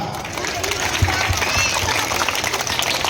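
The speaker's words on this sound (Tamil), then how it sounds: "அதற்காக நம்முடைய சட்டமன்ற உறுப்பினர் அண்ணன் காரமக்க கணபதி அவர்களுக்கு ஒரு கைத்தட்டல் கொடுத்துடலாமா" Audience at a primary school annual function in Chennai claps in a brief, steady burst of applause, dense and close throughout.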